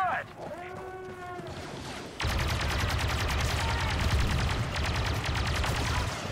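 Gunfire in the Star Wars Battlefront 2 video game: after a quieter opening with tonal sounds, a loud, dense burst of rapid shots starts near two seconds and keeps going to the end, with voices talking underneath.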